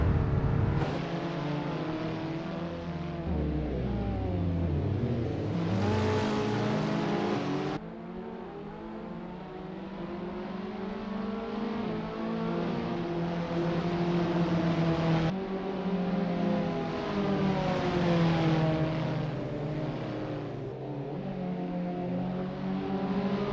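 Abarth 500 race cars warming up on the Circuit de Pau in the Assetto Corsa racing game, small engines droning and revving steadily throughout with rising and falling pitch sweeps, sharp cuts between cars, loud and close with no talking.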